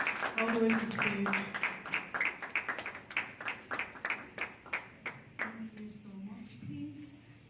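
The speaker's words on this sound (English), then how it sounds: "Round of applause." Applause from a seated audience at a community speech event on mental awareness, a burst of many hands clapping that rises then thins into scattered claps, with a few voices speaking over it near the end.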